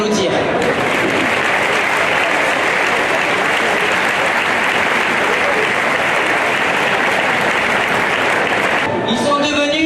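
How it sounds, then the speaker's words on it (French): Loud, sustained audience applause at a village festival ceremony, many hands clapping in a dense, even roar close by for nearly ten seconds before cutting off abruptly. "Vous pouvez l'applaudir."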